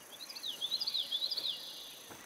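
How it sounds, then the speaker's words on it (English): Pulsating cicada texture of summertime swamp insects: a shrill, warbling trill that swells and dips in rapid pulses for about a second and a half, then fades to a faint steady hiss, with no voices. "there's that sort of pulsating cicada texture that happens often in the summertime."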